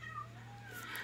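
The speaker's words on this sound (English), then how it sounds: "And now my cat wants to say something." A faint, drawn-out cat meow rises and falls through a quiet indoor room, with a low steady hum running underneath.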